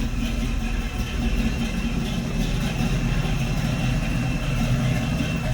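A car engine runs at idle alongside an air compressor filling the tank for its airbag suspension, making a loud, steady, unbroken drone with a low rumble and a mechanical hum, with no voices.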